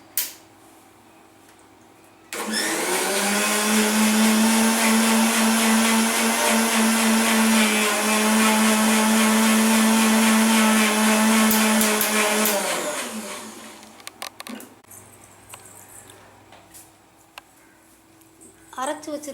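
An electric blender grinds a Trichoderma viride preparation, a loud sustained whir lasting about ten seconds after a brief start, then spinning down to quieter clatter and handling noises.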